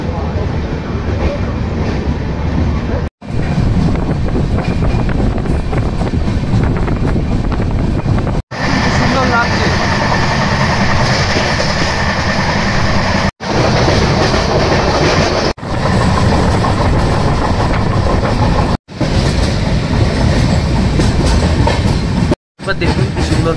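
The Dhauli Express, a superfast train on the Odisha route, rolling along the tracks with a loud, continuous rumble and clatter heard from on board, along with wind buffeting. The sound is broken by several brief cuts.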